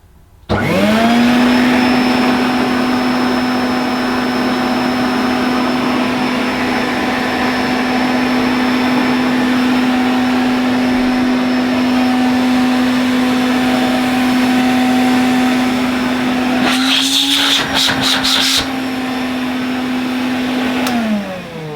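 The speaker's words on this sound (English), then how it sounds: "Let's hope this quality vacuum is going to work when I switch it on." A vintage Hoover Constellation vacuum cleaner switches on and runs with a loud, steady motor whine, briefly rattling and shifting pitch near the end before winding down.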